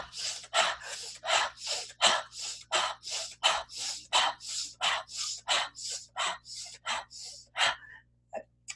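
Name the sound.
rapid breathing exercise: sharp inhale through nose, exhale through mouth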